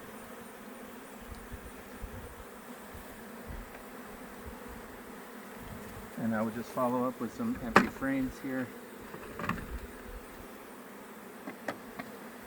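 Honey bees hum steadily around an open hive during a two-queen super split install, a soft continuous buzz with louder passes near the middle while a person talks over it.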